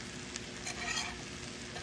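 Food sizzles and crackles steadily in a hot cast iron pan, a soft continuous hiss with faint spattering.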